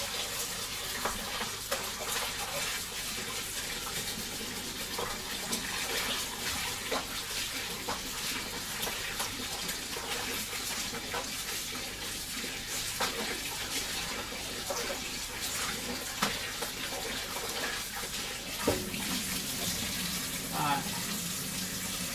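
Water from a tap runs steadily for over twenty seconds while something is rinsed out underneath it during breakfast preparation, with splashing and clatter of handling and a few faint knocks mixed into the continuous flow.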